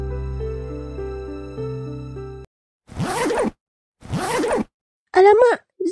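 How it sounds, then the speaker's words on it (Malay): A broken zipper is yanked in three or four quick, rasping strokes after a stretch of music, each pull separated by short silences. "Alamak, zip rosak."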